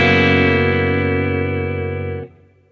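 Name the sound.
electric guitar through Ventilator Leslie pedal, slow rotor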